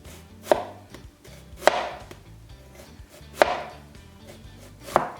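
A knife cuts an onion into julienne strips on a cutting board. Four distinct, solid chops land about a second apart, close and clear, with nothing else in between.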